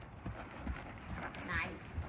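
A horse trotting in a riding lesson arena, rapid rhythmic hoofbeats passing quickly, with a trainer's voice talking over the steps.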